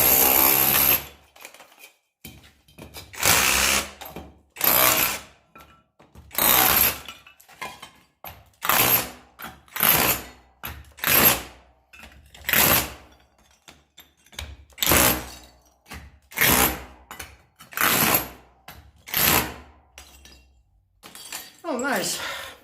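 A Parkside PKHAP 20-Li cordless hammer drill hammers into brick in repeated close, loud bursts of a second or so, separated by short pauses, ending with a brief whine as it winds down.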